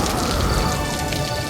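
Rain falling in an animated children's story, a steady dense hiss of raindrops pattering on surfaces throughout, continuous and fairly loud.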